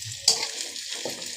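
Beef tripe frying in oil, a hissing sizzle broken by a few bursts as pieces are stirred, close and fairly loud, with no voices.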